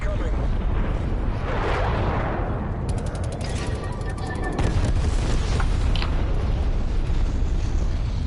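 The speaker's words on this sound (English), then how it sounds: "Enemy napalm strike incoming." Napalm strike explosions in a video game come as a dense, continuous roar of rumbling blasts and crackling fire, with a rapid burst of mechanical clatter in the middle, loud and close throughout.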